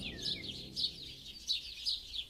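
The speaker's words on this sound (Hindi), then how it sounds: "सुबह सुबह जंगल से उठती जानवरों और पक्षियों की आवाजों से क्षितिज की नींद टूट गई" Birds chirp in a forest at morning: high, quick twittering calls repeat in short bursts over a soft, steady background hum.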